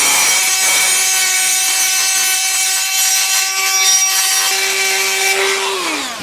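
A die grinder ports a 350 Vortec cylinder head, radiusing the port corners with a loud, steady high-pitched whine that holds nearly constant, then drops slightly in pitch near the end.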